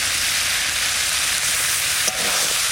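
Small red potatoes with ground spices and ginger paste sizzle steadily in a pan for a village-style dum, a continuous frying hiss with a brief stir at one point and no voices.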